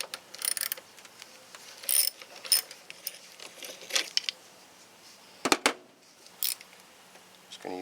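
A ratchet with a deep 10 mm socket works a bolt on the fender of a 1992 Jeep YJ with the 4.0L engine, giving scattered close metallic clicks and clanks in short bursts with pauses between them.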